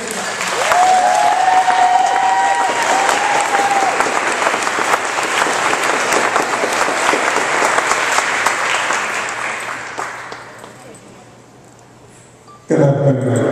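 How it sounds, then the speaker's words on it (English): Warm, loud applause from a crowd welcoming an honoree at a community event, dense clapping at first with a voice briefly over it, fading out gradually before a sudden new sound at the end. "Please give a warm round of applause to Big Man"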